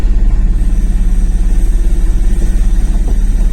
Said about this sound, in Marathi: गाडी फिरूया